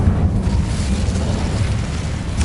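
Incendio fire spell in a Harry Potter video game: a loud, sustained roaring whoosh of flame with a deep rumbling body, holding steady with a brief swell at the start and again at the end.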